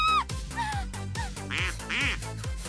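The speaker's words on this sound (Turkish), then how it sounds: "Ördek yavruları bekliyor." Cartoon ducklings give two quick, bright quacking bursts amid squeaky animated voices and tonal background sounds.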